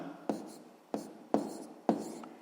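A pen writes out a sixth-grade math solution on paper in four short scratching strokes, each starting with a sharp tap and trailing off, close and fairly quiet.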